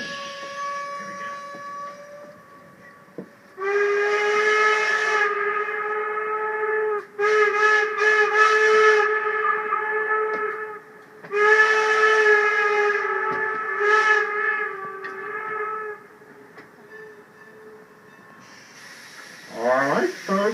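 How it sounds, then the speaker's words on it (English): Old steam locomotive at the Strasburg railroad sounds its whistle in several long, loud chime blasts separated by short pauses, heard from a distance across open air, with a faint hiss and brief noise at the end. "listen for the ghost whistle to answer us back today"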